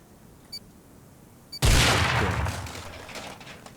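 A C4 charge detonates against a metal wall in the game Rust: two faint beeps lead into a sudden loud blast that rumbles and slowly decays over a couple of seconds, with no voices.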